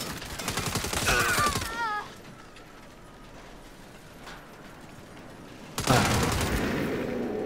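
Turret gunfire from the video game Saints Row: loud rapid mechanical bursts in the opening two seconds and again from about six seconds, with a quieter stretch of ambient game noise between.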